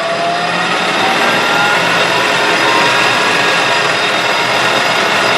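A metal lathe takes a light calibration skim cut while making a compact rotary broach, a loud, steady broadband whir and hiss of machinery running without a break, no talk.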